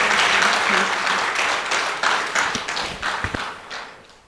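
An audience at a forum gathering breaks into dense applause that starts loud and gradually thins out, with a few distinct louder claps and thumps near the end.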